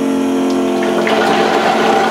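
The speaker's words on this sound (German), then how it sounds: "Jetzt schauen wir mal, jetzt pumpt er das Wasser um." A yeedi mop station for a vacuum and mopping robot pumps water, swapping dirty water out and refilling with fresh, giving a steady, fairly loud watery hum and gurgle throughout, close by with no talking.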